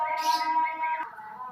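A white-rumped shama, or murai batu, gives a close, clear whistled chirp that holds steady, then bends into a brief falling phrase.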